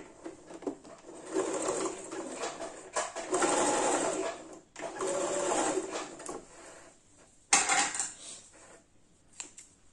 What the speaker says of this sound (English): You sew it to the fabric like this